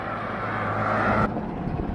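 Vehicles on the Teesta road bridge make a continuous close rumbling roar of traffic that swells slightly, then shifts as a vehicle passes.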